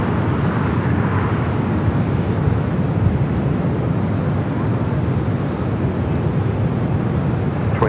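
An Airbus A321 airliner in Superman livery at Los Angeles airport, a loud steady broadband jet roar that fills the whole stretch without a break.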